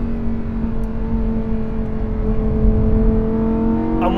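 Lamborghini Huracan Tecnica V10 engine pulling hard near the top of sixth gear at high speed, a steady loud droning howl with rising harmonics that climbs slightly toward the end, heard from inside the car without talk.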